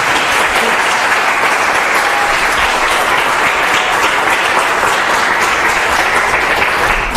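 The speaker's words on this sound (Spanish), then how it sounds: "un aplauso." A lecture audience breaks into loud, sustained applause after a talk on the psychology of irrational beliefs and pseudoscience, dense and even clapping filling the room without a break.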